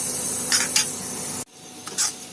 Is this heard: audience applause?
no